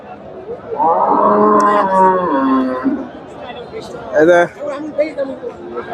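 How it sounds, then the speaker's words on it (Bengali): A Friesian bull moos loudly in one long, deep bellow, followed by voices chattering nearby in a busy outdoor cattle market. "ফ্রিজিয়ান ষাঁড়"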